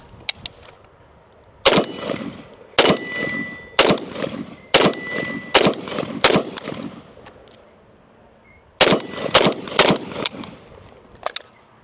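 PSA Krink AK rifle firing brass case ammo outdoors: a string of loud, sharp gunshots at uneven intervals, two quick bursts of shots with short pauses, then a final cluster after a longer gap.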